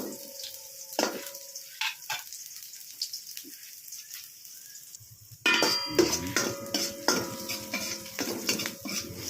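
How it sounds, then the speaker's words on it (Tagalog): Onions sauté in a pan for a tilapia dish, a few utensil clinks at first, then a louder, denser sizzle with clattering stirs close by, no voices. "Hintayin po natin maluto yung sibuyas."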